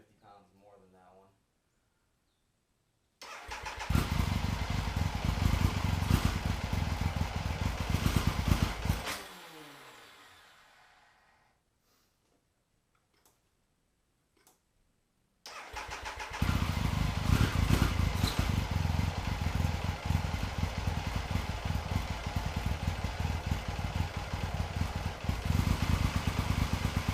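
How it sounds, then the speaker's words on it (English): A Super III motorcycle engine fires up and runs at a steady loud drone, dies away into near silence mid-clip, then starts again and keeps running to the end. "There isn't a real choke on this motorcycle, so I used the cruise control instead once it got going"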